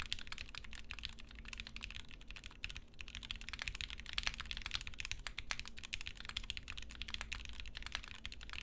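Dense, continuous typing on a Wilba.Tech Thermal+ keyboard with Gateron Black Ink switches, struck hard so the keystrokes pile into a steady clatter, close and unbroken, with no talking.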